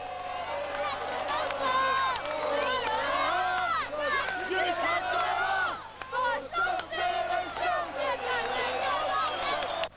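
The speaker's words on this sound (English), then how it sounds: "The crowd erupted." A large crowd of Hearts fans roars and cheers in the Edinburgh streets as the team parades the Scottish Cup trophy, a dense sustained din of shouts and whoops, loud and continuous throughout.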